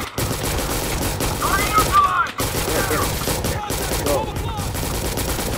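Continuous rapid gunfire in the shooter game Recoil, dense automatic bursts close and loud with brief gaps, voices faintly heard underneath.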